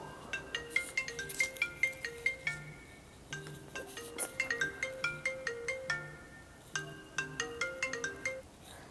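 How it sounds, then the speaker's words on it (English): A phone ringtone plays a repeating chiming melody in a kitchen during cooking, bright bell-like notes in rhythmic bursts with short gaps, moderately loud and alone. "My phone was ringing."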